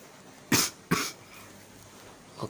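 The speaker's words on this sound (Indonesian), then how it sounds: "maaf kalau saya batuk tadi" A person coughs twice in quick succession, close and loud, and a third softer cough follows a moment later, during a PUBG Mobile game session.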